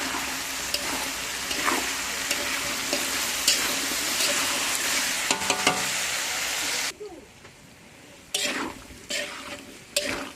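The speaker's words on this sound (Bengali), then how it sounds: "এখানে আমি বাঁধাকপির তরকারিটা বসিয়ে দিয়েছি, বাঁধাকপির তরকারিটা হচ্ছে।" Cabbage curry with tomato sizzles and gets stirred in a pan over a clay oven, loud steady frying with scraping strokes, then a brief quiet gap before the stirring resumes.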